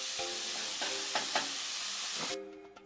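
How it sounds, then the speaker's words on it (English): Loud, steady sizzling of bacon strips frying in a medium-heated pan, with a few scraping stirs, then the hiss suddenly drops away near the end. "Add the bacon strips to a medium-heated pan, stirring occasionally until nicely cooked. Enjoy that sensational sizzle."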